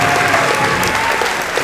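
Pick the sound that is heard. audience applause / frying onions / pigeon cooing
audience applause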